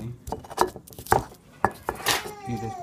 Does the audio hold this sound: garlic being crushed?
yes